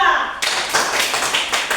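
Classroom applause for a student group, a burst of quick, uneven hand claps from a small crowd of students, close and fairly loud, with some voices underneath.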